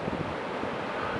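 Ocean surf rolls in on the west coast of the Olympic Peninsula as a steady broadband wash of waves mixed with wind rumble on the microphone, continuous and fairly loud, with no voices.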